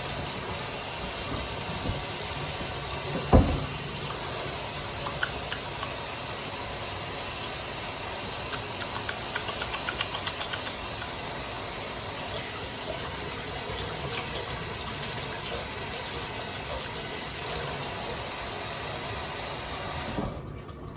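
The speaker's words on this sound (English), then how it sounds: "the first thing we're gonna do is we're gonna wash our hands" Tap water runs in a continuous loud hiss and splash while hands are washed at a kitchen sink before cooking a low-cost taco meal; one brief knock early on, then steady flow until it cuts off near the end.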